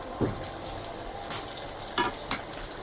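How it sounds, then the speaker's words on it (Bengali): Chickpeas and onion fritters (peyaju) fry in hot oil for iftar, giving a steady soft sizzle with a few brief louder crackles and stirring scrapes near the pan. "এখানে ছোলা ভাজতেছি আর এদিকে আছে পেঁয়াজু"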